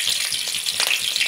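Onion, carrot and chili fry in hot oil for chow mein, giving a steady, close, loud sizzle with no pauses and no talk.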